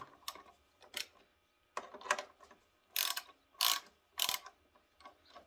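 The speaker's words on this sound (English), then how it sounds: "I'm just gonna take off these bolts here on this cover." A 1/2 inch drive ratchet loosens bolts on a cover of a 1991 Ford Ranger XLT during a radiator replacement, making short bursts of rapid clicking separated by pauses, close and clear with no talking.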